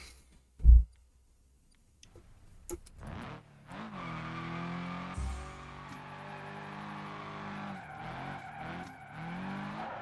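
A car in a racing video game skids with drawn-out tire squeal over a droning engine, after an early sharp thump and a brief quiet gap, the skid tones wavering and sliding for several seconds.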